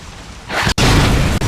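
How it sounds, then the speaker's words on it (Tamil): Petrol truck exploding in Resident Evil 6: a sudden loud boom bursts in after a quieter rumble, with a sharp cut and a sustained roaring blast that fills the rest, no talk. "போச்சு, வெடிச்சிருச்சு."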